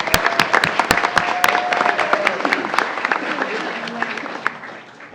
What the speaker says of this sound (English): A round of applause for them as well, please.